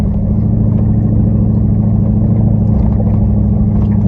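A truck grinds steadily up an old mountain trail, its engine a loud, constant low rumble close by with no break or talk.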